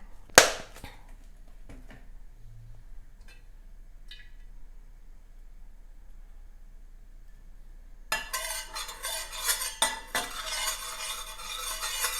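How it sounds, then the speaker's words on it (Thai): Quiet scrapes and clinks of a utensil in a wok, then a sudden burst of loud sizzling as chopped garlic hits hot oil, with stirring scrapes. "ใส่กระเทียมสับลงไปนะคะ เจียวให้หอมค่ะ"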